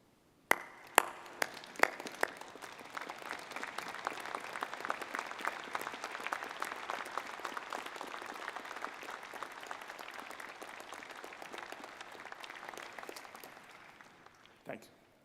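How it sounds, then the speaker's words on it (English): Applause fills the hall at a university convocation of a school of management. A few sharp opening claps swell into a long, even wash of clapping that holds steady and then quickly dies away. It is fairly quiet and distant. "thank Loretta Rogers for her contributions to our university with applause"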